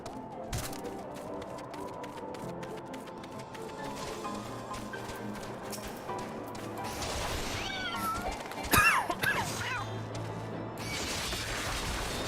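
A person imitates a cat, letting out a few short, rising meows near the end over the music and sound effects of the video game Final Fantasy XIV.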